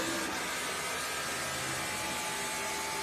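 Onboard a Trans Am race car at Circuit of the Americas during a SpeedTour race, the engine and wind give a loud, constant, dense roar with no break.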